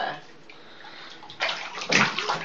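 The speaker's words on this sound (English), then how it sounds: "Let's see a splash." Water sloshes and splashes in a bathtub during a child's bath, with a couple of louder splash bursts near the end over a steady running-water hiss, while people talk nearby.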